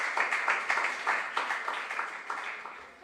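An audience at a junior science and maths school quiz in a regional qualifier claps for a team, giving steady, dense applause of many hands for about three seconds that fades slightly toward the end.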